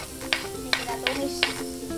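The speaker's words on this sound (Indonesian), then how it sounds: "Ini kita tumis." Onion sautéed in margarine in a pan gives a crackling sizzle and four or five sharp spatula scrapes at a quick, regular rhythm. Faint voices sound in the background.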